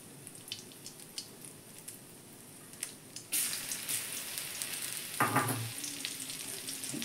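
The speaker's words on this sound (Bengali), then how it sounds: "কড়াতে রসুন দিচ্ছি" Garlic hitting hot oil in a kadai: quiet faint crackles at first, then a sudden loud burst of sizzling that stays strong and close, with a brief surge of hissing partway through, no one speaking.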